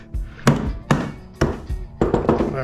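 About six sharp hammer blows strike a PTAC motor's metal case to split it for copper scrap. The hits are close, loud and spaced unevenly, with a quick double strike near the end.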